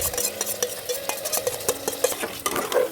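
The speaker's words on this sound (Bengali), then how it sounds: "মশলা ঢেলে দিয়ে মাংস এক সাইডে কষাচ্ছি" Mutton being stirred and sautéed with spices in a pan, a spoon scraping and clinking steadily against the metal over a soft sizzle, close up with no talking.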